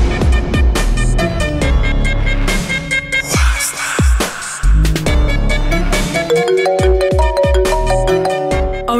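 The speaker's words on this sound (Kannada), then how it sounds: "ಅವಳೆ ಫೋನ್ ಮಾಡ್ತಿದ್ದಾಳೆ." A phone rings with a melodic ringtone for an incoming call, a loud repeating tune that plays continuously for several seconds without talk.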